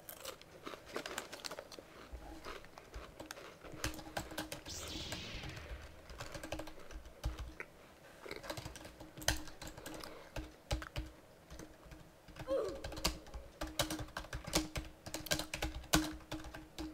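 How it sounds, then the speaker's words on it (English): Fingers type on a computer keyboard in an office in Bahrain, giving a steady run of light, close-up key clicks at an uneven pace in a quiet room. "My keyboard not working."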